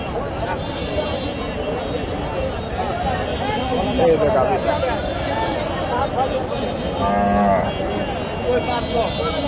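A pregnant cow moos repeatedly at a busy North Bengal cattle market, its low calls rising over steady crowd babble and nearby talking.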